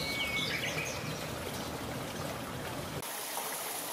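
Steady broadband rush of flowing stream water, continuous and fairly close, with a faint high bird chirp near the start.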